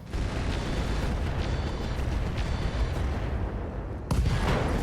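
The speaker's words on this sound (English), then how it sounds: "Kaboom. LRM ammo explosion." LRM ammunition cooking off inside a Centurion mech in RogueTech, a sustained roaring blast with heavy rumbling and crackling that surges again near the end.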